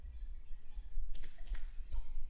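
A computer mouse clicks while working in Autodesk Inventor software: a few sharp, close clicks spaced unevenly over a quiet room background.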